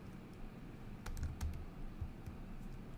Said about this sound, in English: So in the username field, let's type input